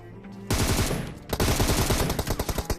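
Automatic rifle fire in PUBG Mobile, two loud bursts of rapid shots, the first brief and the second longer and rattling, close and alone.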